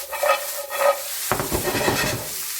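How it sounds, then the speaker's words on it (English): Diced onion dropped into a pan of browning turkey bacon: a quieter sizzle with a light clink, then a sudden louder, fuller crackle and stirring scrape once the onion hits the fat. "I'm going to add in 1 diced onion."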